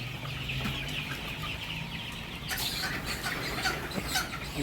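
Many forty-day-old colour bird chickens cluck and murmur together close by on a poultry farm, a busy chattering flock with overlapping calls, getting livelier partway through.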